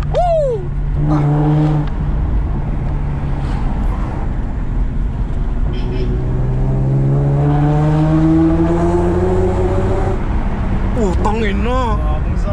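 A 2.0-litre inline-four car engine revs hard several times up close at night, pitch climbing and falling, while people talk and exclaim over it.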